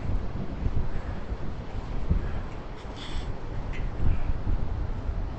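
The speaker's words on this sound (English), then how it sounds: "good breeze off the ocean today" Strong southeast wind blows in off the Atlantic at a Long Island seashore beach, a steady low rumbling buffet on the microphone with surf rolling underneath, gusting louder a few times, with no voices.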